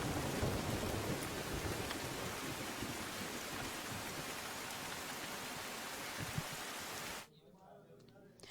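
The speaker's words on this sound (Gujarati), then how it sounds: "ક્યાંક ભારે તો ક્યાંક હળવા વરસાદી ઝાપટા પણ પડી રહ્યા છે" Heavy rain pours during monsoon downpours across Gujarat districts, a loud, steady, dense hiss of falling water that continues unbroken for about seven seconds before cutting off abruptly to near quiet.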